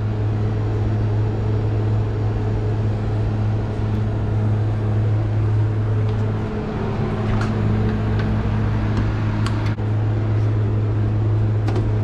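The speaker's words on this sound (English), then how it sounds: "the motor's trying to spin super slow" A seized HVAC motor hums steadily as it struggles to spin very slowly, a constant low drone with faint clicks and ticks near the end, close by and without speech.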